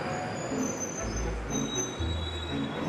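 A London Underground Central Line train brakes near Bank station, with high thin wheel squeals ringing over a steady low rail rumble and dull thuds, heard from inside the train.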